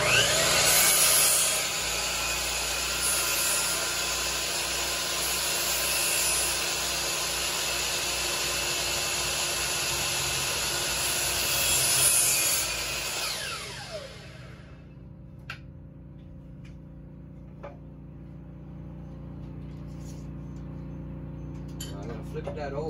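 A miter saw set at 45 degrees cuts wood for a picture frame, a loud sustained whine for about fourteen seconds that then winds down, followed by quiet room noise with a few faint clicks.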